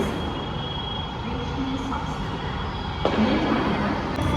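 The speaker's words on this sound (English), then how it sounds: "we are in metro now" Metro train carriage rolling along at steady speed, a continuous loud rumble with a high whine and a sharp rattling jolt near the end, heard from inside the coach with no talking.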